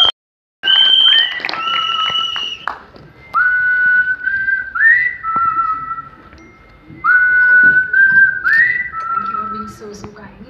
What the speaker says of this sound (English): Vidya Malawari, can we have a big round of applause for her?